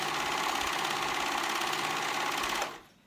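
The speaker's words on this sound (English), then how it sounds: "So I'm sewing that side, those two cowl pieces together, right sides together." A sewing machine runs steadily at speed, joining two sweater cowl pieces right sides together, with a loud, even mechanical whir that stops abruptly near the end.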